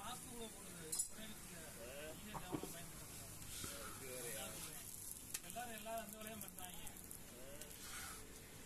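Onion podi dosa frying in plenty of oil on a pan, a steady sizzle and crackle running throughout with occasional light clinks, close and moderately loud, with a person talking over it.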